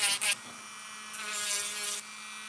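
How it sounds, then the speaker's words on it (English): A small electric nail drill at low speed whirs with a steady high-pitched buzz while buffing fingernails, its pitch and loudness shifting as the sanding band presses on and lifts off. "I'm just gonna buff it out with the sanding band"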